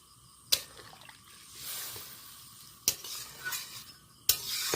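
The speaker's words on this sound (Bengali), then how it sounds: "তরকারিটা হালকা ফুটতে শুরু করেছে, এখন ফুটুক।" A curry with water added begins to simmer in a pot, giving a soft, steady sizzling hiss broken by three sharp metallic clinks, like a spoon striking the pot.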